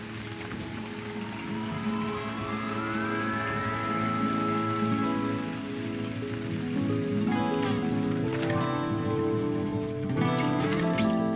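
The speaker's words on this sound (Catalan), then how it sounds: "Comença a ploure!" Rain falling steadily on a garden, a dense even patter that keeps going the whole time, with bright musical tones and a rising whistle layered on top, and no talking.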